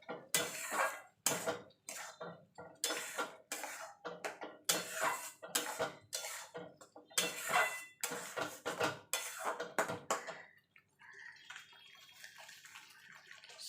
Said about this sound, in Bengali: এবার এইগুলো ভালো করে মিশিয়ে নেব।